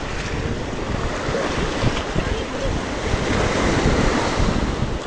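Larger waves roll in at the Black Sea shore of Nesebar, Bulgaria, a constant loud surf roar mixed with heavy wind noise on the microphone, swelling and washing in irregular pulses.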